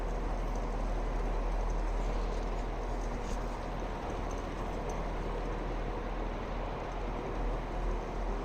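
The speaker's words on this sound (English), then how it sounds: "I think these trains are like diesel trains because they're like really loud." Loud diesel trains idle and rumble at an Irish railway station near Dublin, a steady, dense low engine drone with broadband noise filling the whole stretch and no voices.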